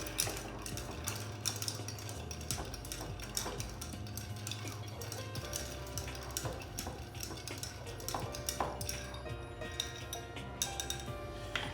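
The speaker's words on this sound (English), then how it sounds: "Add the ice, and then stir away." Peach cocktail being stirred with ice, producing a continuous run of quick clinks and rattles of ice against glass and spoon, close and steady for the whole stretch, with no voices.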